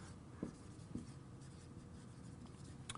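A pen or marker writing by hand on a board or paper during an economics lesson, faint scratchy strokes with a couple of brief taps, heard alone in a quiet room.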